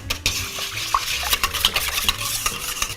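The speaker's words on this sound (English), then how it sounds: "get on with mixing my wet ingredients together" Buttermilk, cold coffee, vegetable oil and eggs being whisked together in a bowl, with quick, close clicking and sloshing strokes of the utensil against the bowl in a busy rhythm.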